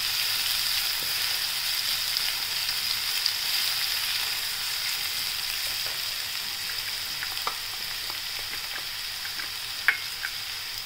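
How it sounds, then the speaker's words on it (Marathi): Onion and green chilli sauté in hot oil with mustard seeds and cumin for zunka, giving a steady, close sizzle with scattered spoon clicks and stirring scrapes throughout, no voices. "आता आपण याच्यात कांदा आणि हिरवी मिरची टाकूया। छान परतून घ्यायचं थोडं।"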